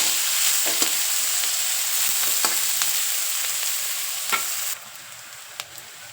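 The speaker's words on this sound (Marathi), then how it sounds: "चांगला सोनेरी कलर होईपर्यंत आपल्याला कांदा परतून घ्यायचा आहे" Onion topped with spices sautéing in a pan toward a golden colour, with a steady near sizzle broken by occasional clicks of a stirring spoon, the frying quieting slightly near the end, without any talking.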